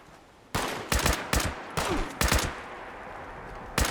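Gunfire from fighting a scorched in Fallout 76: about six sharp, loud bursts of rapid shots spaced across a few seconds, with quiet gaps between them and no talking.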